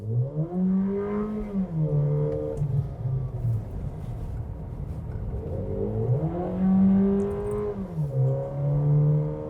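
A VW Nivus GTS with its 250 TSI 150-horsepower engine accelerates on a track, rising and falling in pitch through several gear changes, a clear revving tone close by inside the car.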